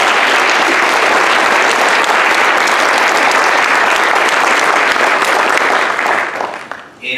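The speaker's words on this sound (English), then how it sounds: "Please join me in clapping for all of yourselves." Conference audience applauding together at a closing session, a dense steady wash of many hands clapping that carries on loudly for several seconds before thinning out at the very end.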